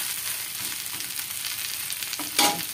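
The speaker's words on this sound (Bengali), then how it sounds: "ওই সাইডে একটু ভাজা ভাজা হবে তেলে," A greens patty fries in oil in a pan, giving a steady close sizzle with a brief louder crackling burst near the end, no voices.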